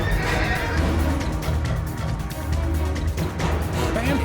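A horse in the Western video game Call of Juarez whinnies loudly and close, with hoof clatter and shuffling around it and a second neigh rising near the end.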